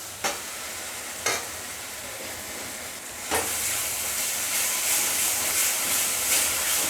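Masala of tomato sauce and salt for a Bengali doi katla fish curry sizzles and hisses steadily in a pan while being stir-fried, with a few sharp scraping stirs early on before a denser, louder sizzle takes over.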